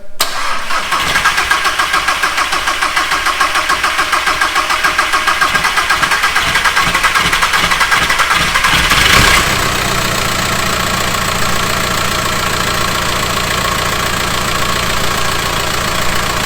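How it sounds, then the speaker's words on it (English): A newly fitted engine in a VW T5 Transporter van cranks with a rapid starter chatter for several seconds, then catches and settles into a loud, steady idle close by. "so we know the engine runs"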